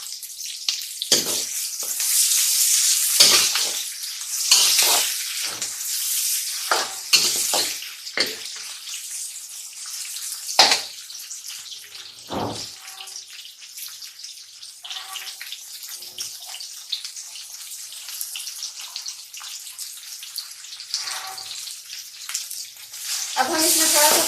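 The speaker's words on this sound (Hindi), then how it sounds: "अब हम इसमें थोड़ा सा पानी शामिल करके इसको 2 से 3 मिनट भूनेंगे।" Spinach and potatoes with chili sizzling and frying in a pan, with intermittent stirring clatter and scraping over a constant crackle, close up, no talking.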